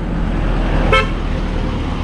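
A vehicle horn gives one short toot on a road leading toward Marleshwar, heard over steady loud road and engine noise from a moving vehicle, with no talk.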